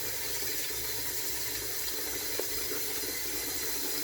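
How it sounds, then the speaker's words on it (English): Water runs steadily in a slow-draining hotel bathroom sink, giving a constant close hiss and trickle with no voices over it. "the sink drains really slow"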